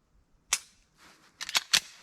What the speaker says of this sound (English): I'm going to shoot some rounds at my steel target just to kind of see where they're heading